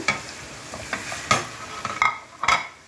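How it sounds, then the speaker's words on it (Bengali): Fish sizzling in hot oil with a few sharp clinks and scrapes of a utensil against the pan, close and brief. "মাছগুলোকে ঢেলে দিলাম"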